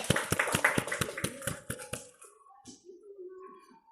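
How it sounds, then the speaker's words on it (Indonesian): Students in a classroom give a short round of clapping, about ten sharp, evenly spaced claps that stop after roughly two seconds, followed by quieter room sounds and faint voices. "Kita beri tepuk tangan dulu."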